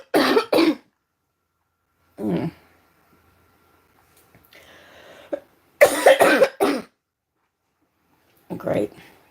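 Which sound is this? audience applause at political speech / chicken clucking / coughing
coughing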